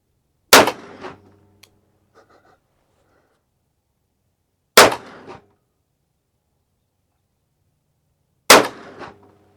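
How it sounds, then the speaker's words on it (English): A .44 Magnum revolver fires Corbon Hunter 240 grain rounds outdoors: three loud, sharp, close shots spaced about four seconds apart, each followed by a brief echoing ring and silence. "5 rounds. Corbon Hunter 240 grain"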